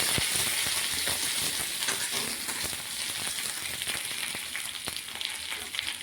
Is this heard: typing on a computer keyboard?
no